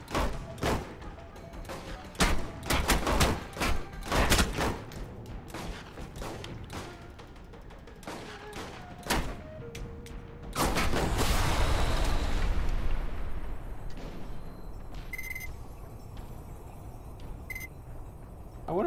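Repeated gunfire in a shootout from the video game Alpha Protocol: sharp shots in quick irregular bursts, then a dense heavy stretch of firing with booms, easing into sparse single shots.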